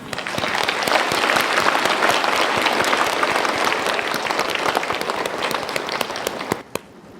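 Audience at a ceremony in Nonthaburi, Thailand, welcoming distinguished guests with loud, sustained applause, a thick wash of many hands clapping together that cuts off near the end.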